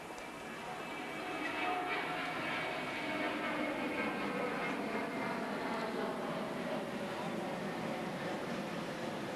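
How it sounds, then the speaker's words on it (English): An aeroplane passing over an outdoor tennis court during a match, a broad roaring drone that swells after the first second and holds steady, distant and overhead. "Krajicek looking up at the aeroplane, which of course we all could hear."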